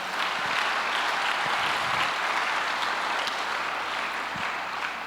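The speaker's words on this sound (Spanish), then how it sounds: "¿Le puedes dar un aplauso a Dios en esta mañana?" Church congregation applauding during a Spanish-language morning service, a dense, even roar of clapping that holds steady and fairly loud for several seconds before easing slightly at the end.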